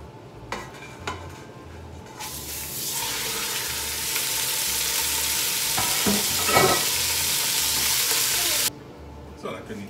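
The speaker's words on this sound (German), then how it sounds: "werde jetzt aber schon mal das Hackfleisch in den Topf tun, damit das anbraten kann" Minced meat drops into hot lard in a pot and starts frying, a loud, close sizzle that flares up and holds for several seconds amid stirring and utensil clatter, ending abruptly.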